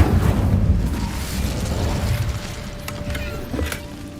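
Incendio fire spell blasts in a wizarding video game, a dense roaring whoosh of flame with crackling bursts that stays loud throughout and slowly thins out, with no voices.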